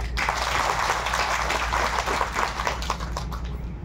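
A church congregation at an Assam Baptist convention claps in thanks, with dense, sustained applause from many hands filling the hall at an even level for a few seconds.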